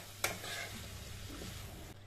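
Potatoes being added and mixed into a pan for Goan batat bhaji, a potato sabzi: one soft knock, then a steady, fairly quiet sizzle with gentle stirring scrapes throughout, no voices.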